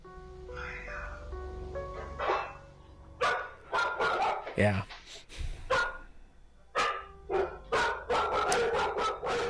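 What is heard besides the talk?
dog barking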